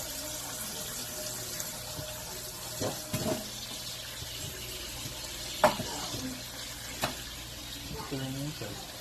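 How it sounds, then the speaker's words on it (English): Running tap water splashes steadily in a sink while raw chicken is washed, with occasional clunks and soft handling noises close by. "Now we're going to wash off the chicken."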